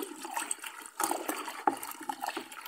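A body wash mixture is stirred very fast, producing a steady, fairly soft liquid swishing and sloshing with quick, repeated strokes and no talking.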